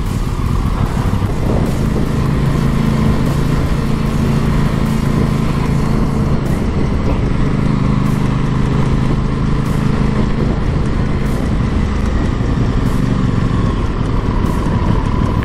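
An Aprilia Tuono 660 motorcycle engine drones steadily and loudly while riding, with a constant rumbling hum and slight shifts in pitch.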